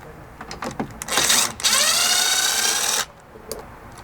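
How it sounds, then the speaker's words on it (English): A power driver with an 8mm socket spins out a single screw behind the driver's seat of a Ford Bronco, a close whirring buzz of about two seconds that rises in pitch, with light handling taps before and after. "grab an 8mm socket and come right here behind the driver's seat up top and remove this single screw on each side"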